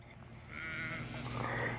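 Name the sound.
sheep bleating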